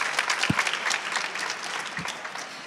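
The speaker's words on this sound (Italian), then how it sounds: "un applauso a tutti e tre" An audience at a hackathon final claps for three competing teams, a lively burst of applause that gradually thins and fades, with a couple of low thumps early on.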